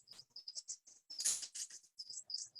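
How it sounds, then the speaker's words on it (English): A prothonotary warbler sings a series of bright, high chirping notes in quick bursts, fairly close and clear, with a louder broadband rustle partway through. "Lovely prothonotary warbler singing his heart out."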